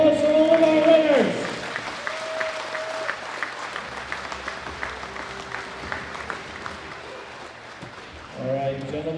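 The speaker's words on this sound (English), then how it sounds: "Big round of applause for all of our winners" Audience applause at a world classic powerlifting championship honouring the men's open 120+ kg winners, a steady wash of clapping mixed with crowd noise and talk, opening with a loud announcer's voice and swelling again near the end.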